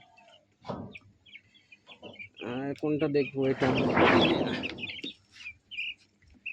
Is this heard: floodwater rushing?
no